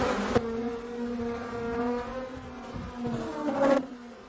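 A clump of honeybees from a swarm buzzes close by in a steady drone of overlapping wingbeats, with a couple of brief louder bumps.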